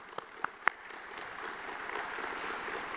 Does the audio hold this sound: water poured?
no